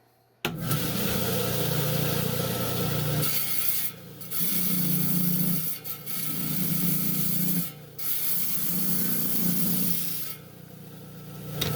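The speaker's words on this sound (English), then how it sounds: "I touch up my blade with the old coarse grinding disc" A diamond saw blade is dressed against an old coarse grinding disc: a steady, loud abrasive grinding rasp that runs almost continuously for several passes, with brief dips between them, and no talk over it.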